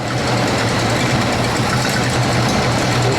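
A 1970 Road Runner V8 idles steadily after a new fuel pump was fitted, with an exhaust manifold leak adding to the note: a loud, continuous low rumble with an even, unbroken beat throughout.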